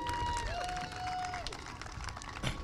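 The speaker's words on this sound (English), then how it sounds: "give yourself a round of applause" Scattered applause from a graduation audience at the Mount Clemens High School commencement, moderately loud clapping that runs under a sustained tone and carries on throughout.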